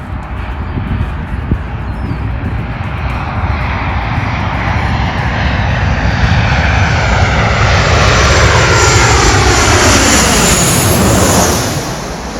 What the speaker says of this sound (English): Plane coming our way. It's going to come over.